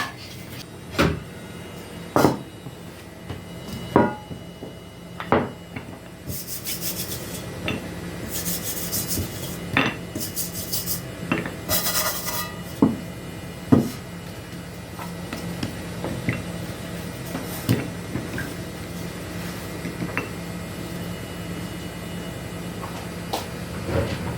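Oiled hands knead and turn dough before it goes into a bowl, giving soft rubbing and slapping sounds with scattered knocks, near and fairly quiet, with brief bursts of brighter scraping.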